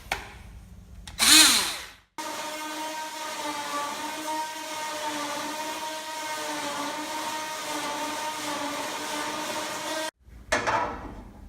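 A power tool cuts through a badly rusted rear panel on a Mk1 Volkswagen Jetta, a steady high whirring drone for about eight seconds between short bursts of louder noise at the start and end.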